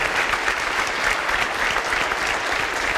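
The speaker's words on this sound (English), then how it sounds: "I think we should give Rosa one more applause" Applause from a conference audience at the 2013 Open Mind Conference, with dense, continuous clapping that stays at a fairly steady level for a few seconds.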